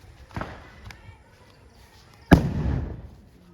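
A firecracker bomb set off for Diwali bursts with one sharp, loud bang that fades into a rumbling decay, after a smaller earlier pop and some faint background noise.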